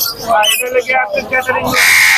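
Sharp, raspy lory parrot squawks repeat in quick bursts, loud and close, with a harsh hiss near the end, at a bird market.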